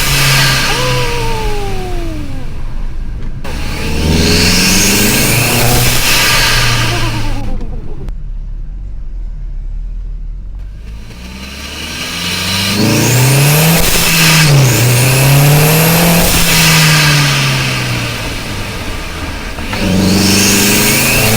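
Audi S3 engine revving hard in repeated loud bursts, pitch climbing and falling through the rpm range with brief quiet gaps between pulls, close and dominant.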